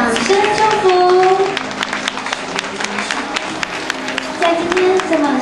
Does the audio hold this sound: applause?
yes